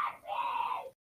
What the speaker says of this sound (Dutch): Kan je mijn broertjes horen schreeuwen?